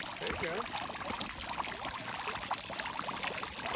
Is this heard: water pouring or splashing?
yes